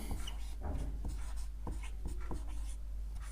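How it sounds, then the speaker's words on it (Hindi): A pen or chalk writing by hand during a class 10 maths lesson, giving a series of scratchy strokes in short bursts, close and fairly clear over a constant low hum. "यहाँ लिखेंगे"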